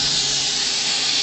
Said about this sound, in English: Sounds like I got a slight leak.